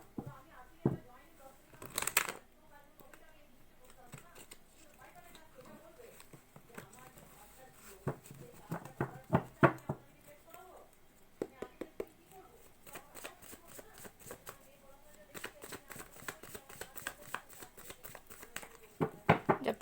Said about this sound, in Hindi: सो जब तक मैं शफलिंग कर रही हूँ